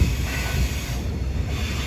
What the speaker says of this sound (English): More coal trains.